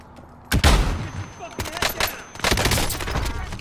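Bursts of automatic gunfire in the Warzone video game, sharp loud shots cracking out around 0.5 s and again in clustered volleys later, with excited players talking over the action.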